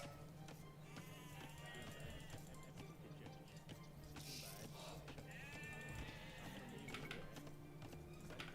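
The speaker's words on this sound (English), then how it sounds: "I guess there's a couple sheeps over here" Sheep bleating in Age of Empires II, several short wavering bleats over a faint constant game background, quiet overall.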